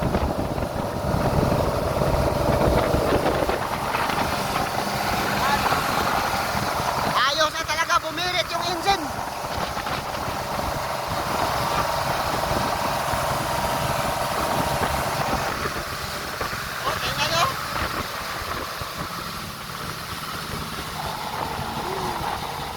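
A motorboat engine, freshly serviced with new oil, drones steadily and loudly throughout, with a constant low rumble, wind and water noise, and occasional voices underneath.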